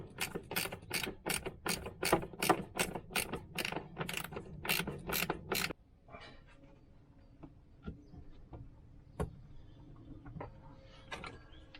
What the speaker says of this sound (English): Little ratchet spanner.